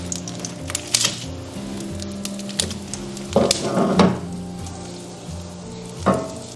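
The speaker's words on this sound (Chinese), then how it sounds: "然后下面饼小火煎。" Dough flatbread, folded around an oil-and-flour paste, fries in a lightly oiled flat pan over low heat, giving a steady close sizzle broken by occasional sharp clicks and brief louder crackles.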